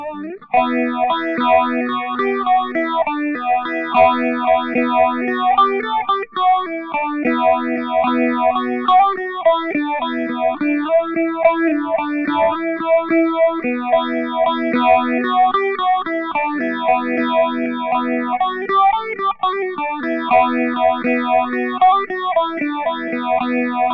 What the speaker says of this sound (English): take two 6-stage phaser effects, put them in series for a much more powerful phase effect